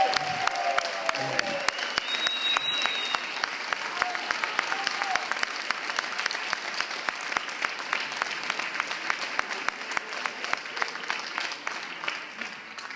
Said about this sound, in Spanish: le pido un aplauso para allá